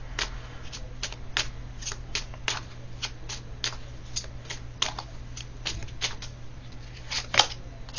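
A deck of tarot cards is shuffled again and again at close range, giving a fast, regular series of crisp riffling snaps over a low background hum.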